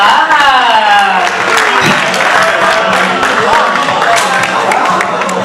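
Sustained audience applause and crowd noise at a Kinshasa fashion show, loud and dense, with a host's voice and some cheering over the clapping.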